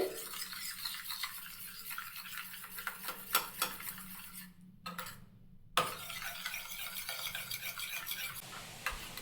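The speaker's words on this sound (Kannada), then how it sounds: "ಈ ಥರ ಮೆಣಸಿನ ಪುಡಿ ಎಲ್ಲ ನೀಟಾಗಿ ಮಿಕ್ಸ್ ಆಗಬೇಕು, ಆ ರೀತಿ ಬೀಟ್ ಮಾಡ್ಕೊಳ್ಳಿ" Eggs with chilli powder and salt are beaten in a bowl, giving quiet, rapid rhythmic scraping and tapping that stops for about a second midway, then resumes.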